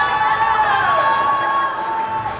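A hockey arena crowd in a Warriors versus Stars game roars and cheers steadily after a tying power-play goal, a dense, continuous wall of voices and whoops throughout.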